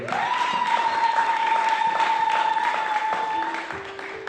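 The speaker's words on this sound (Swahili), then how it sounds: "Nisaidie kumpigia Mungu makofi kwa ajili yenu" A church congregation at an Easter service claps together, a steady near roll of hand claps under a sustained held tone, fading slightly toward the end.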